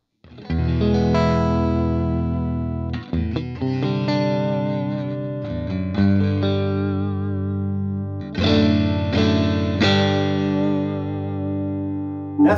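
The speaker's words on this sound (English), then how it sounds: "that's the first guitar we're going to listen to today" An electric guitar fitted with Raw Vintage 64 reverse wound pickups rings out in sustained chords and single notes through a slightly driven, reverberant tone, with a few gaps between phrases and no talking.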